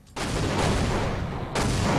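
A booth blown up by an explosive in a Counter-Strike match, a sudden loud broadband burst that fills the clip, with a second blast-like surge near the end.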